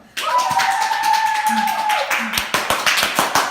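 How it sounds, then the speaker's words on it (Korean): A small group cheers with high voices and claps at a Korean election campaign office, a drawn-out whoop followed by sharp, separate hand claps close by. "환호 한 번 더 부탁드립니다."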